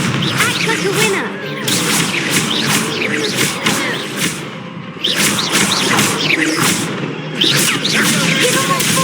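Repeated explosive spell blasts in a Hogwarts Legacy duel, sharp booming bursts with crackling tails arriving every couple of seconds, loud and close, mixed with shouted dialogue.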